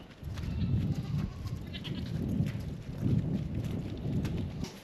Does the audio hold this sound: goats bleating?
yes